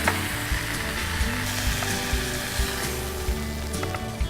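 A quesadilla fries in a pan, giving a steady close sizzle with small regular crackles and pops, moderately loud and without voices.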